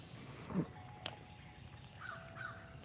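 A crow caws a few times in a rain-soaked backyard after a storm, faint and somewhat distant, with a brief sharp click and other soft bird calls over quiet ambient background.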